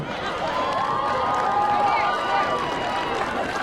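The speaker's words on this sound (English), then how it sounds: "How about another hand for the cheer team?" Crowd applause and cheering at a high school senior night honoring the cheer team, a steady, dense wash of clapping filling the venue throughout.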